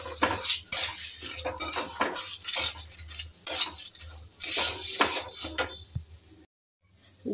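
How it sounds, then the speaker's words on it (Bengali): Dal for khichdi stirred in a cooking pot, a spoon scraping and clinking against the metal in an irregular rhythm with a faint sizzle underneath, close by, then a brief silence near the end. "ডালটা ভালো করে নাড়াচাড়া করে নিলাম।"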